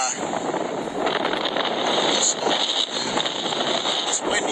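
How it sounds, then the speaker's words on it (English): Strong wind gusts roar across an outdoor track, buffeting the microphone in steady waves. "it's windy out here today, man. It's real windy."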